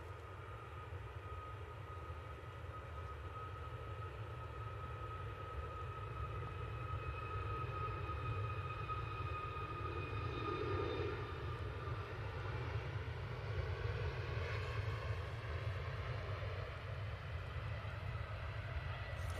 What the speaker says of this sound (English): Ryanair Max 8, and this one's going to Dublin.